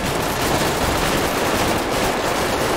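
Rapid bursts of video game gunfire fill a drive-by shooting in GTA 5 roleplay, dense and continuous at loud volume throughout, with no clear individual shots standing apart.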